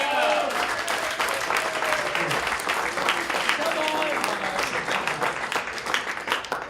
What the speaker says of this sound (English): I want to give it a round of applause for the one and only Frank Callow.